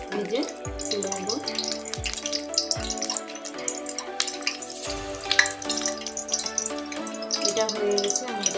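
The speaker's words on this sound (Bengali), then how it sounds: "একটু লাল লাল করে আমি ভেজে তুলে নেব।" Semolina malpua frying in oil over a medium flame, giving a soft continuous sizzle with occasional low thuds, heard under background music.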